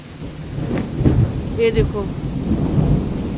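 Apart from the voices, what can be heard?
thunder during heavy rain in the hills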